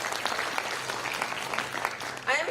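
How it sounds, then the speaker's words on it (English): Brief, fairly faint applause from an audience at a nuclear physics symposium welcoming the chief guest, a short scattered burst of clapping heard from a distance. "let us give a big round of applause for our guest of honor"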